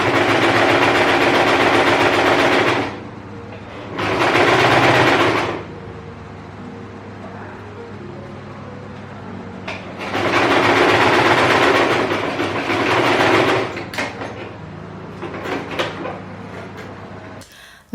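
A sewing machine stitches the shoulders and side seams of a dress bodice in two short bursts, then a longer run, each a steady rapid mechanical whir with quieter gaps of handling between.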